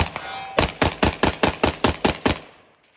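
Rapid gunfire as a full magazine is dumped at targets: about ten sharp, evenly spaced loud shots in quick succession, ending in a fading echo, with no talk over them.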